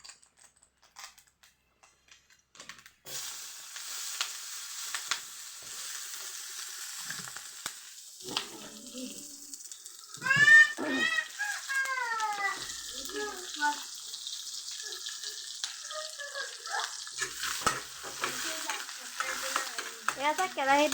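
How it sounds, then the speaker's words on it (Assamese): Eggs fry and burn in a wok with a spatula scraping and crackling sizzle, intermittent at first and then steadier, while a person talks over it. "এয়া চাক কেৰাহীত মই এতিয়া ডিমখিনিটো পুৰি গৈছে"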